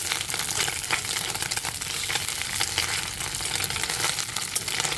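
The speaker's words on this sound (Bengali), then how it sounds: "দেখুন মাছটা প্রায় ভাজা হয়ে গিয়েছে" Fish frying in oil in a hot wok, a dense, continuous close sizzle and crackle with scattered pops throughout, no voice over it.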